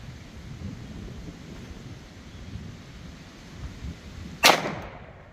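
One sharp 9mm pistol shot from a Glock 17 firing Corbon 80gr +P Pow'RBall ammunition, a single brief crack near the end after several seconds of steady wind rumble, with no voices.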